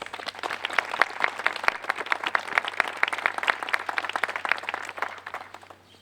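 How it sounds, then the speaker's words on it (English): A round of applause from an audience at a civic ceremony, a brisk patter of clapping that holds steady for several seconds before fading out. "Can I have a round of applause for all them, please?"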